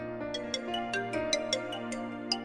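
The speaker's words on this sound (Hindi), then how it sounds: "एक मिनट, राधे का फोन है" A phone ringtone plays alone, a repeating electronic melody with steady sustained tones and regular bright chimes, fairly quiet and close.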